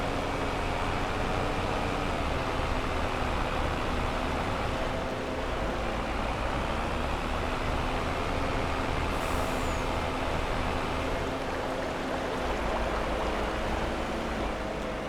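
A Volvo truck in Farming Simulator 22 drones with a steady, loud engine rumble throughout, a continuous low mechanical roar with little variation and only a faint hiss suggesting an air brake.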